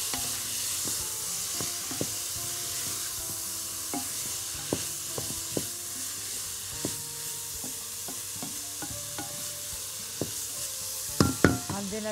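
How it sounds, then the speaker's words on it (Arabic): Diced vegetables sizzle lightly in a pan under a steady frying hiss, with utensils scraping and tapping as they are stirred, and a few louder clinks near the end. "بس تحميرة كده خفيفة"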